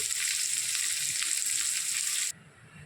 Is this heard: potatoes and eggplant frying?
yes